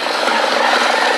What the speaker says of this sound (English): we got the chopper up